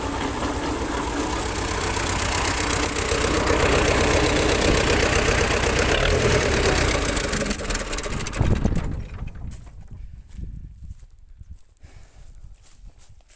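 Small Moroz mounted combine harvester threshing pumpkins, its engine and separating drum roaring loud and steady with rattling grain-handling noise, then dropping away sharply near the end to a faint low running hum.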